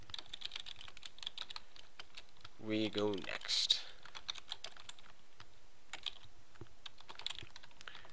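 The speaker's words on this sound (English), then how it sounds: "I know I'm slow typing right now, but I will be faster as it goes on." Rapid computer keyboard typing clicks in short bursts across the whole stretch, fairly close, with a person briefly speaking over it partway through.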